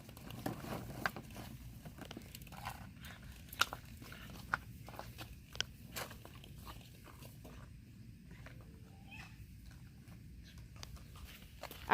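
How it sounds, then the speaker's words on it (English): Dalmatian puppies chewing and biting plastic ball-pit balls, a steady patter of small crunches and clicks with a few sharper bites, close and fairly quiet, no talking. "I'm not going to have any balls left that aren't all chewed up."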